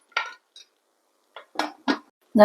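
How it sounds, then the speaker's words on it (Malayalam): Several sharp metallic clanks and clicks from a pressure cooker lid being fitted and locked in place, close by, with quiet gaps between. "കുക്കർ മൂടി വയ്ക്കാം"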